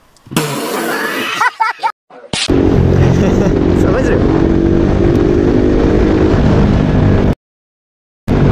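A Bajaj motorcycle fitted with a modified exhaust revs loudly and close by, with a rough, sustained engine roar, then cuts out abruptly near the end. People talk during the earlier part.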